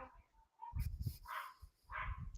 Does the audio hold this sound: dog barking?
yes